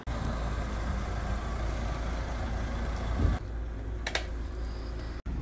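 A BMW E34 on its last drive of the year runs steadily up close, a constant low engine drone with broadband road noise, easing off after a few seconds before a brief click.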